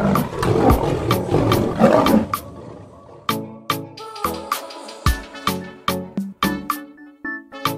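A captive lion roars and snarls while attacking its trainer, a loud rough burst at first, then a series of sharp separate growls and grunts, each coming in short pulses close up.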